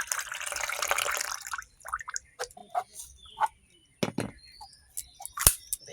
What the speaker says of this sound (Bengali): জল বেরোচ্ছে,